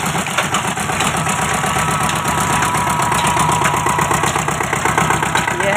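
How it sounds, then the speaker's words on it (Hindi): A new Eicher two-cylinder engine powers a sugarcane crusher used for making jaggery, giving a loud, steady, rhythmic chugging drone that runs continuously at close range with no speech. "यह है आइसर का न्यू ब्रांड 2 सिलेंडर इंजन जो कोल्हू चलाने के काम आता है"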